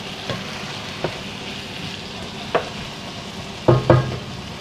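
Squash added to a cooking pot with mackerel, giving soft sizzling and a few scraping stirs, with a louder double clatter near the end; no talking.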